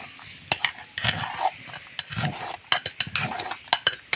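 Spoon scraping and stirring through food in a cooking pot, a run of short rasping strokes and soft knocks against the metal, close and fairly quiet, with no talking.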